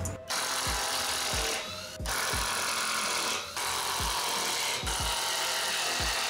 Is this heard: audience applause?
no